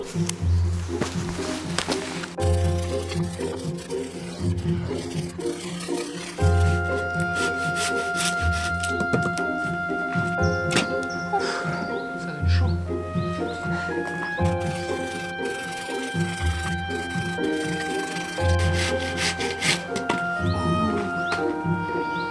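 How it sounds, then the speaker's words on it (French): A hand saw rasps back and forth through wood outdoors in steady repeated strokes, close by, with a mix of scraping and ringing tones. "il y a une scie"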